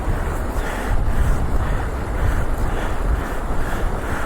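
Rushing river water roars loud and continuous at an off-road stop with a Hero Xpulse Pro motorcycle, a dense broadband wash with wind buffeting the microphone and no talk.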